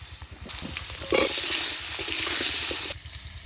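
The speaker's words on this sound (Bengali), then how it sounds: "মাছগুলো আমার ভাজা হয়ে গেছে ওই তেলে আলুগুলো ভেজে নেব" Potatoes frying in the same hot oil used for rohu fish, a close, steady sizzle with a brief louder burst and stirring, then stopping abruptly.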